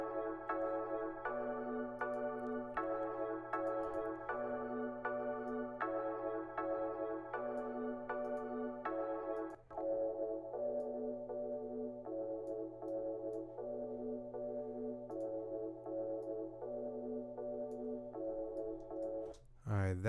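A slowed-down, stretched dreamy beat loop plays softly, with a low sustained bass drone under repeating hazy melodic chords and a recurring rhythmic note pattern that shifts slightly halfway through.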